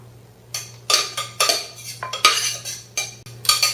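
Cooked apple mixture being spread into a baked crust for a vegan gluten-free apple cobbler: a metal utensil repeatedly scrapes and clinks against the dish in close, uneven strokes, with a low steady hum beneath.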